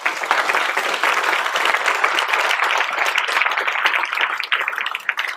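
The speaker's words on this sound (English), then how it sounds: "could you please give them a big round of applause?" An audience applauds panelists at the close of an AI and robotics panel evening, with dense, steady clapping from many hands that holds strong through the whole stretch, with no voices on top.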